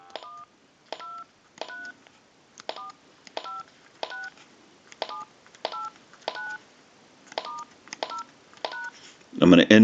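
A Verizon E 9020 cordless telephone dials a number, giving a string of about a dozen short two-tone keypad beeps at an irregular pace, clear and close, with a brief clatter as the handset is set down at the end.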